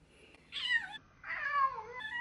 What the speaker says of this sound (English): She starts to purr when you pick her up